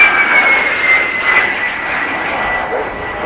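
Transport aircraft powered by D-436 jet engines at the Farnborough air show, a loud sustained engine roar heard from a distance, with a steady whine running through it.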